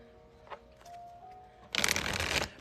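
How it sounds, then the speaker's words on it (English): A deck of playing cards being shuffled: a dense, loud riffling burst lasting under a second, after a few faint taps and soft tones, with no talking. "Just go get a deck of cards from like the Dollar Tree or wherever and just practice shuffling"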